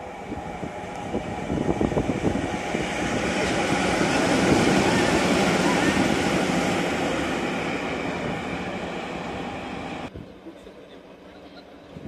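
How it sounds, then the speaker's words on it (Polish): A train rumbles past nearby, its noise swelling to a peak and fading before cutting out, with voices heard faintly underneath. "Będzie przed nami pociąg"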